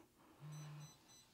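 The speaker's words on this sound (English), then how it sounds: "Beeping." A Quicrun 10BL120 G2 sensored speed controller gives a single steady electronic beep lasting about half a second while in programming mode, clear against a quiet room.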